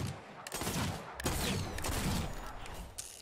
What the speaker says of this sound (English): Let's try out the Marksman 6 shooter